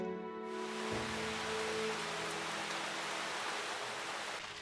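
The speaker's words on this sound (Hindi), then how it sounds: "बारिश बहुत तेज हो रही है।" Heavy cartoon rain pours down as a steady, dense hiss that fills the whole scene from start to finish, following a brief tonal sound at the very beginning.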